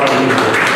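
Audience applause at a Hindi-Urdu poetry and literary gathering, a dense steady wash of many hands clapping, loud and close, filling the whole short moment.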